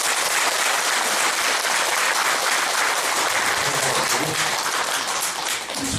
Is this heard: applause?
yes